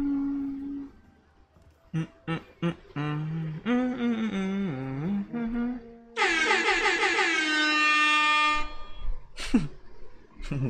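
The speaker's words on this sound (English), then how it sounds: "Sorry, man, for the late air horn." Air horn sound effects on a gaming livestream, a run of short blasts and wavering horn tones followed by one long, loud, bright blast and a final brief honk.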